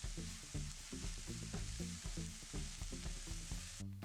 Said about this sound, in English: Stirring that up.